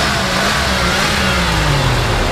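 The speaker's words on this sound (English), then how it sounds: "go ahead and rev it up" A 1991 Ford F250 XLT Lariat pickup with 74k miles revs its engine up close, a loud continuous roar whose pitch slowly falls as the revs ease off.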